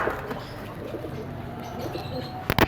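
Domestic pigeons in a loft cooing softly and steadily nearby, with a brief flutter or sharp sound near the end.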